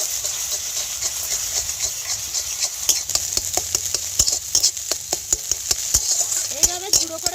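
Eggs broken into hot oil and crushed as they fry while making papad, giving a steady sizzle broken by repeated sharp scraping and tapping clicks from a utensil working the pan.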